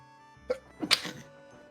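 A person sneezes once nearby, a short intake followed by a sharp burst, fairly faint against a quiet background with a low steady hum.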